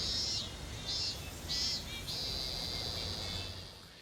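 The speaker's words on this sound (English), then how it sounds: "You have had this like constant cicada, you know, in the background" Cicada drone shrills steadily in the background, pulsing in short bursts at first and then holding a continuous buzzing tone, fairly loud against a low rumble.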